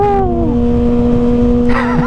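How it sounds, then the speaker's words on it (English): A 2021 Kawasaki Ninja ZX6R KRT Edition sport motorcycle downshifts on a night ride, engine pitch sweeping down then holding steady before a sharp rev blip near the end, loud and close. "All right, let's hear some downshifts."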